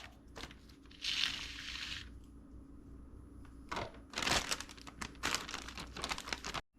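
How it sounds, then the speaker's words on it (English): A plastic Ziploc bag crinkles in close, loud bursts as pieces of pork are placed inside for sweet and sour pork, with irregular rustles and pauses between them. "I'm going to put it in a Ziploc baggie."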